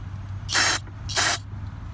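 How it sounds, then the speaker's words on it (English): Two short hissing sprays of cleaner onto a Nissan NV200 electronic throttle body, each about a quarter second long, close up with a brief pause between them. "Spray on the other side. Just spray it like that."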